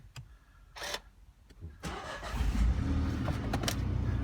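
The engine of a 2017 MINI One 5-door cranks and fires after a few cabin clicks, then settles into a steady, close idle hum.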